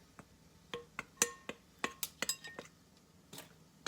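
Lard worked into biscuit flour in a bowl with a metal utensil, a run of light, sharp clinks and taps at an uneven pace, close and quiet with no talking.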